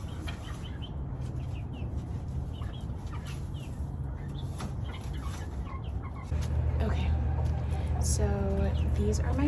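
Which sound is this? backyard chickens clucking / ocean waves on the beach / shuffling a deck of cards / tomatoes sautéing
backyard chickens clucking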